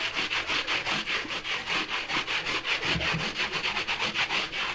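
A brush scrubs a carpet in steady, fast back-and-forth strokes, about three per second, close and loud with no talking.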